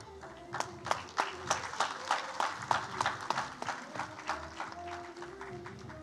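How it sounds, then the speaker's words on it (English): An audience claps for prize winners at an International Day for Biological Diversity celebration, a round of applause with distinct rhythmic hand claps that builds and then tapers toward the end. "can we have one round of applause for all the winners here?"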